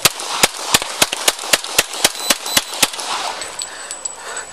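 Rapid volley of about a dozen loud, sharp gunshots fired by a police officer during a shooting of a suspect after a pursuit, evenly spaced over roughly three seconds, followed by ringing noise and a faint tone.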